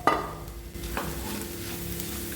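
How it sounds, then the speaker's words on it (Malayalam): Beetroot and soya chunk keema being sautéed in a pan, with a steady close sizzle and soft scraping stir strokes, one sharper scrape at the start and another near one second. "ഒന്നുകൂടെ നല്ലപോലെ വഴറ്റിയെടുക്കുക"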